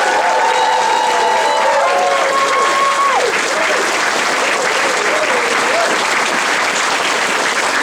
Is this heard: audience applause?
yes